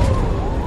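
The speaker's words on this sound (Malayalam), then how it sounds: "ഫയർ എഞ്ചിൻ അല്ലേ വന്നത്?" A fire engine siren wailing in the Spider-Man 2 video game, a loud, steady tone over rumbling traffic noise for a brief moment.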